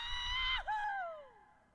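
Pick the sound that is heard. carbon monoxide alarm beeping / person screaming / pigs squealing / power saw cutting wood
person screaming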